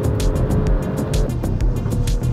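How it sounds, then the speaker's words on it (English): Loud, continuous engine and exhaust roar from an Alfa Romeo Stelvio Quadrifoglio crossover, with rhythmic surges and crackles as it revs hard through gears, close and dominant with no talk. "Oh my God, listen to that exhaust."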